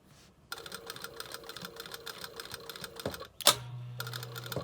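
A sewing machine stitches a reusable cloth makeup wipe in a steady, rapid mechanical chatter that pauses briefly and then resumes with a slightly lower hum.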